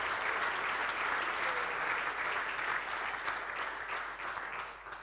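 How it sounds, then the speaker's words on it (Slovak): Loud, sustained audience applause fills a hall at an awards moment for a long-running race organizer, a dense, steady wash of clapping that tapers slightly at the end. "Tak, ešte jeden veľký potlesk."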